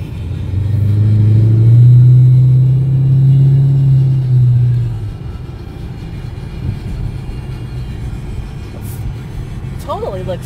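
Motorcycle engine with a full exhaust and cam swelling into a loud, deep rev for a few seconds, then settling to a steady lower rumble under background noise.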